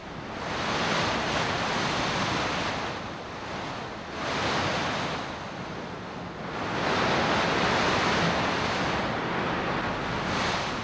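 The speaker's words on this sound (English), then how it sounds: "the blasting winds that blow straight off the Patagonian ice cap" Strong wind blasts off the Patagonian ice cap in the Andes, a loud, steady roar of rushing air that swells and eases in broad gusts, with no voices.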